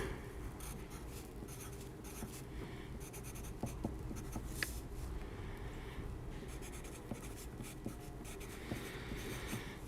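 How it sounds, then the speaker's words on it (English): Pen or pencil writing by hand on paper, a faint, steady scratching with small ticks and strokes, quiet and close with no speech. "I'm just going to write this down."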